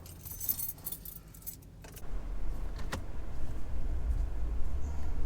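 Keys jangle close up in bright, rattling metallic bursts for about two seconds, then a steady low vehicle rumble takes over.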